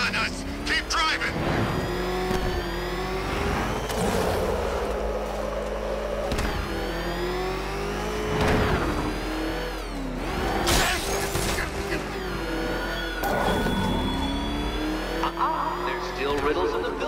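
The Batmobile in the Batman Arkham Knight video game revs and drives through Gotham with a loud, steady engine roar, rising and falling in pitch with bursts of acceleration and tire squeal, under excited talking and game dialogue.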